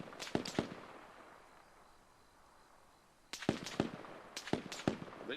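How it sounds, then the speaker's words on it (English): Unsuppressed gunfire in the video game ArmA: a quick burst of sharp cracks, a long lull, then several more scattered volleys of shots, fairly close and loud, with no talk. "There's someone shooting north, southwest. It's unsuppressed."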